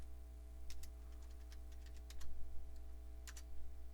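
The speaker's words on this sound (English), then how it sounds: "you're going to type in Windows 2000" Typing on a computer keyboard, a few quiet scattered key clicks in short bursts over a steady low electrical hum, close and faint.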